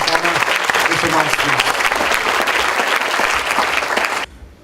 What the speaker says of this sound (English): let's give one more round of applause for the former Mr. Mark